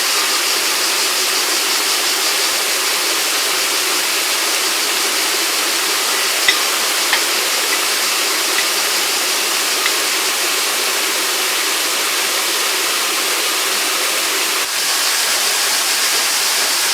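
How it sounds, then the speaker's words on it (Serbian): Water released through a homemade water wheel generator with a large pulley, belt and dynamo, rushing in a steady, loud broadband flow that stays even throughout with no talk. "da pustim vodu da vidim šta se događa"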